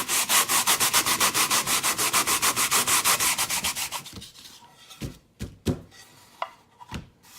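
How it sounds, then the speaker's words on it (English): Hand sanding of a glued wooden cutting board: about four seconds of rapid, rhythmic back-and-forth rasping strokes, close and loud, then a few scattered knocks and handling sounds. "You want to sand until this thing is relatively flat and all your little blemishes are off of it"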